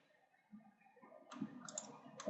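Quiet computer mouse clicks, a few sharp taps in a row against a low background hum during CAD design work.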